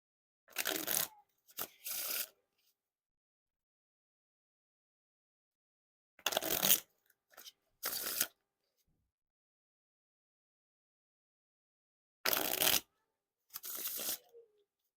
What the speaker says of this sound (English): Now on to the Riffle Shuffle or Bridge Shuffle.